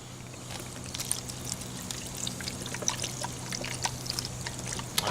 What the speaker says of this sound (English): I'm going to pour in that full bottle of that French dip mix